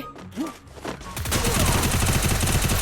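Submachine gun fire in the mobile shooter Free Fire erupts after a second of scattered thumps, becoming a loud, continuous rapid burst that fills the remaining time.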